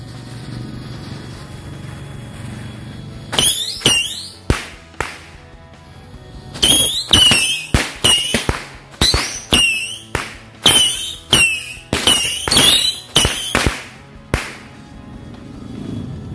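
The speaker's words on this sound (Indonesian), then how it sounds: "selanjutnya kita nyalain mercon misil baterai ini." Missile battery firecrackers shoot off one after another in sharp whistling, cracking bursts, a rapid irregular series of loud pops over a quiet background.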